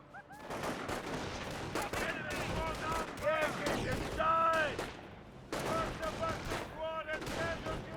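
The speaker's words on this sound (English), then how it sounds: "Does get suppressed there by the MG42" MG42 machine gun fire in the Company of Heroes 1 video game, rapid bursts of gunfire in stuttering volleys amid battle noise, loud and close, with a commentator's voice heard intermittently in the mix.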